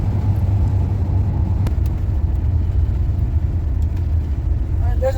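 A Ford F-150 pickup fitted with flamethrowers gives a loud, close, continuous low engine rumble as it accelerates, with no breaks through the stretch.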